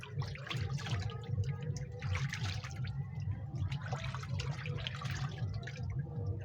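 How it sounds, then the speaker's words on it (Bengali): Hands being rinsed under running water from a tap after scrubbing off plant sap with salt and oil, a steady close splashing stream that runs continuously without pause. "তার হাতটা ধুয়ে নেব।"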